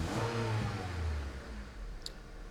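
A 2005 Honda Civic with a misfire and low power revs sharply off idle at a throttle snap. One rising engine surge climbs quickly and then falls back, heard close and on its own.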